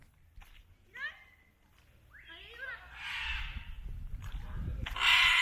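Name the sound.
macaws (large parrots) calling in jungle at Copan Ruinas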